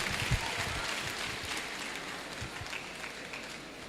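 Clapping from a lecture audience at a faculty lecture on preventing acute medical emergencies: a fairly soft, even patter of many hands heard from a distance, continuing steadily with no one talking over it.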